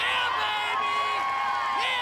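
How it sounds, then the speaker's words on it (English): A father cheering on his daughter during a rock climbing final, his voice rising in sustained shouts above a murmuring crowd. "And there's her dad cheering her on."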